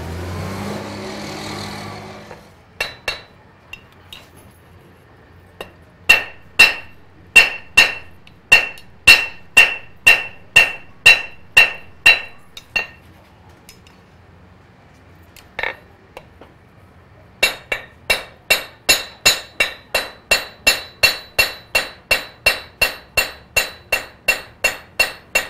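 A blacksmith hammers a knife blade on an anvil's corner, producing long runs of sharp, ringing metallic strikes in steady rhythm, close and loud, with a short pause midway before a faster series.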